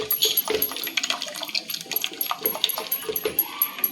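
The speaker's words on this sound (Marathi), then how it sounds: "हे असं चाळून घेतलं. हा आपला खरबूजचा ज्यूस तयार" Muskmelon juice thinned with water being poured through a strainer, a close, continuous watery trickle and splash broken by small clinks and taps of the strainer against the vessel.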